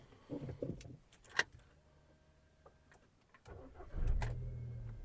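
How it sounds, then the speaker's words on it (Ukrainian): A few faint clicks and ticks, then a Volkswagen Golf V 1.6 MPI engine turns over and settles into a steady, even low idle that runs to the end. "Двигун запускається чудово, оберти не плавають."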